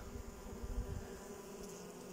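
Honeybees hum steadily around a hive fitted with a syrup feeder, a faint continuous buzz with no voices.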